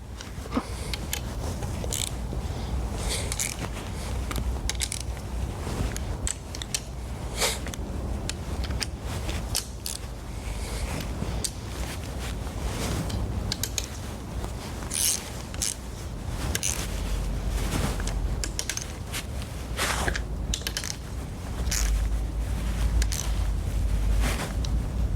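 Bolts torqued down on a Tesla Model S P85 large drive unit during a rebuild: dense clicking, creaking and metallic ratchet-like taps throughout, fairly close, over a steady low shop rumble with no talking.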